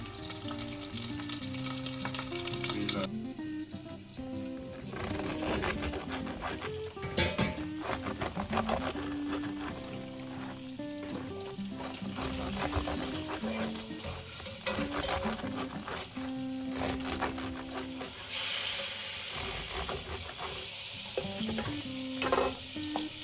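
Beef searing in a hot buttered pan, a continuous close sizzle with occasional scraping and clatter of a utensil, no voices.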